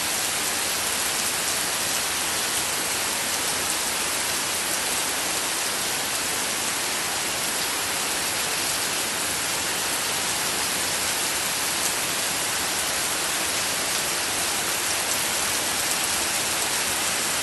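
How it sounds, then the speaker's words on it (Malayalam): Heavy rain pours down steadily and loudly, a dense continuous hiss of drops with no pauses throughout. "നല്ല അടിപൊളി മഴ കേട്ടോ"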